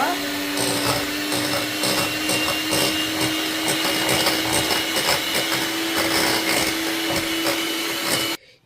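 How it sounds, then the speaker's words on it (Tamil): Butter and condensed milk being beaten for a coconut cake batter with an electric mixer, a steady loud motor whine running continuously until it cuts off at the end. "இப்போ நாங்கள் பட்டரும் டின்பாலம் விட்டு நல்லா அடித்து எடுத்தாச்சு."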